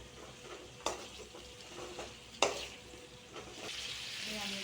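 Ridged bitter gourd pieces stir-frying in a pan, a steady soft sizzle with a few sharp scrapes and clicks of a spoon stirring, quiet and close, no talk.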